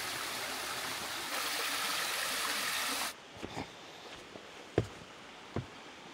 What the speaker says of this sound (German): Ich glaube, hier unten ist so eine Art kleiner Wasserfall.